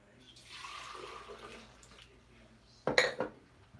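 Two cups of hot water pour into a small mixer, a soft hiss and splash lasting about a second, followed by a sharp, clattering knock of the container.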